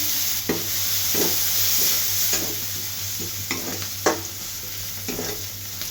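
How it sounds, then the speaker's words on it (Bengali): Chopped onion and garlic frying in oil in a wok, a continuous bright sizzle broken by regular scraping strokes of a spatula, close and fairly loud, with no speech. "পেঁয়াজ রসুন ভাজা হয়ে গেছে"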